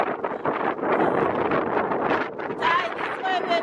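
Steady wind gusting across the microphone on an open-air sky ride, a broad continuous rush with a few swells, while people talk throughout.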